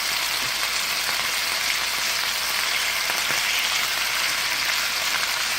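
Chicken pieces for teriyaki chicken sizzle steadily in a frying pan, a loud, dense crackling hiss that runs unbroken through the whole clip with no one talking.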